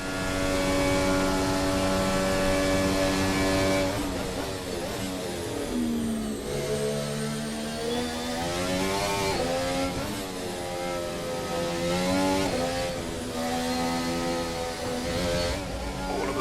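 A Formula 1 car engine from a 2023 racing video game mod revs hard and climbs through the gears, its rising and falling whine steady and loud for the whole stretch, with no talk over it.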